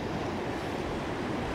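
Gentle sea waves lapping at the shore, a steady soft wash of surf with some wind noise, continuous and fairly quiet throughout with no voices.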